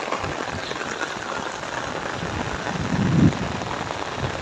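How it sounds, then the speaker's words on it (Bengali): Heavy rain falls steadily on surfaces in a village, a dense, even hiss of drops close by with a brief louder low swell near the end and no voices. "সকালে তো অনেক বৃষ্টি পড়ছে আমাদের গ্রামের মধ্যে"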